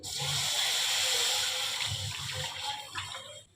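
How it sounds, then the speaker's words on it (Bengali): Warmed milk pouring into a pot for making chhena, a steady rushing liquid stream that holds for a couple of seconds and then trails off with a few splashy gurgles near the end. "আমি এবারে দুধটা ঢেলে দিলাম"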